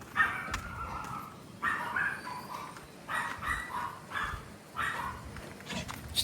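Dogs bark in the Philippines, a run of repeated, fairly close barks and yips in uneven bursts with short pauses between them.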